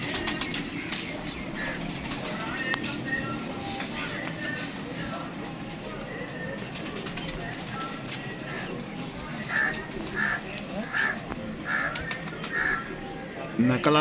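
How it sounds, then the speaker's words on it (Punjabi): Naqal breed pigeons call near a keeper, with scattered coos and soft wing flaps over a constant busy outdoor background, a few sharper calls standing out toward the end. "ਲਓ ਜੀ ਇਹ ਸਾਡੇ ਨਕਲ ਵਾਲੇ ਕਬੂਤਰ ਨੇ"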